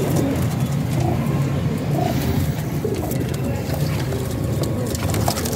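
Pigeons at a bird seller's cooing low and steady, close, over constant background noise and people talking throughout.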